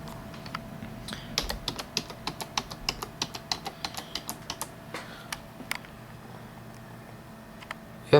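Keys clatter on a computer keyboard hooked up to a Power Mac G4 Cube, a steady run of separate close clicks for about five seconds that then thins to a few last taps, alone with no talk.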